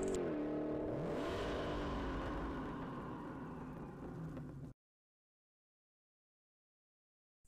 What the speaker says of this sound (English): As it launches, we see it take off, wrinkle the tires again, and blast down the strip.